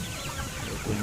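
Free-ranging native village hens and mostly young chickens in a Konkan village poultry yard cluck in a brief, dense jumble of overlapping calls over steady background noise.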